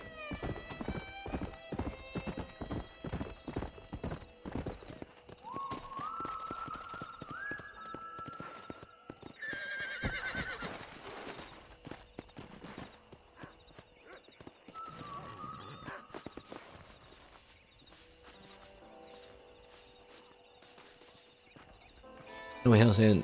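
Rhythmic clip-clop of horse hooves with a neigh in Red Dead Redemption, set against game music and effects while a person talks.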